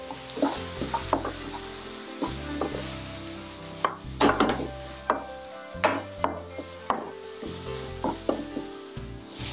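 Garlic and bok choy stir-frying in oil in a wok for Shanghai vegetable rice, a close, steady sizzle broken by repeated sharp clacks and scrapes of a spatula against the pan.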